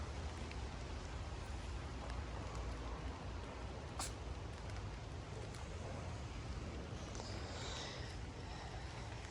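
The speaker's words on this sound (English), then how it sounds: "If it would stop raining" Steady rain falls over a rose garden on a wet morning, a constant close hiss of drops with low rumble beneath and one brief sharper tap near the middle, no voices.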